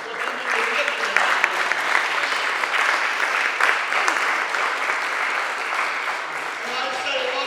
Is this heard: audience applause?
yes